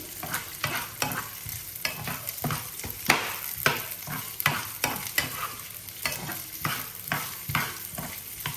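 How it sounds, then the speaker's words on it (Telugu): Chopped onions fry in a pan for a paneer masala curry, a steady sizzle broken by frequent, fairly regular scrapes and clatters of a spoon stirring them, close and with no talking. "ఆనియన్స్ని ఫ్రై చేసుకుందాం."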